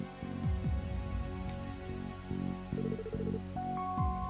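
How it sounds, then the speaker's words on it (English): In The Legend of Heroes: Trails to Azure, steady rain patters beneath soft in-game music with sustained tones and gentle notes, quiet throughout and with no voices. "Man, the rain hasn't let out today."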